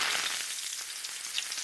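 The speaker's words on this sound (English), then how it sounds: "I fry the marinated chicken. I listen to the meat sizzle." Marinated chicken fries in hot oil in a pan, giving a steady, close crackling sizzle with fine pops and no voices over it.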